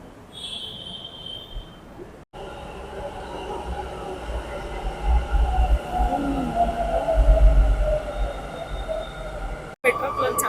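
A metro train rolls past in a busy city, its low rumble growing louder and then easing, with a faint wheel whine, heard from nearby under some background voices.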